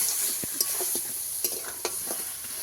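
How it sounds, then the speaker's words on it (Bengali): Fried crab stirred into a spicy gravy in a pan, a low steady sizzle with a few sharp spatula scrapes and knocks spaced through the clip, close and moderately loud, no talking. "কাঁকড়াটাও এই গ্রেভির সঙ্গে ভালো করে একটু মিশিয়ে কষাবো"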